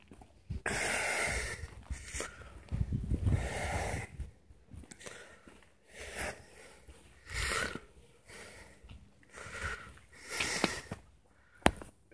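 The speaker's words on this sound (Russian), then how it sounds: "О, как хорошо снег хрустит" Feet crunching through snow on a winter street in Bendery in a steady walking rhythm, each step a dry crisp crunch, close and moderately loud, with no talking.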